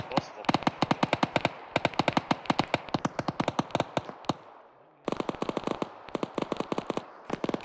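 An RPK machine gun in ArmA 3 fires long, rapid full-auto bursts, close and loud, with one short pause midway before the next sustained volley of sharp cracks.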